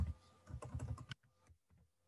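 Typing on a computer keyboard during a maths lesson, a quick run of close key clicks for about a second followed by a few softer scattered taps.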